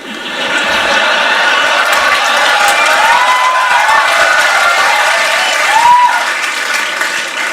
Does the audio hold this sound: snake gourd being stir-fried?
no